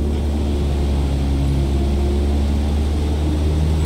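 An aircraft engine at full throttle in Microsoft Flight Simulator, a loud steady propeller drone with a strong low hum that holds constant throughout.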